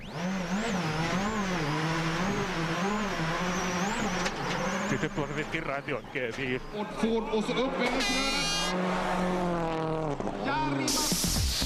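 Rally car spinning out on a snowy stage of the 2007 Uddeholm Swedish Rally, its engine revving and tyres scrabbling almost continuously beneath loud, steady commentary.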